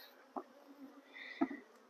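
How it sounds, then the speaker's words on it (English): Honeybees, African-derived, buzz softly and close by as they are brushed off, with a couple of brief brushing thumps over the hum. "I'm brushing the bees off"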